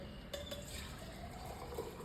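Water poured into a pressure cooker for cooking rice in a home kitchen makes a steady, close splashing rush that runs continuously for a couple of seconds, with nobody speaking over it.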